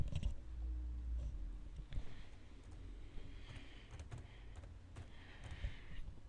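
Scattered keystrokes on a computer keyboard while a word is typed in a Cinema 4D session, a few close clicks spread across a quiet room with a low hum underneath.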